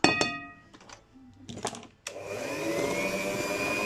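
An electric mixer starts up with a sharp whir and settles into a steady high whine as it beats almond biscuit batter, after a few clinks and knocks of bowl and utensils.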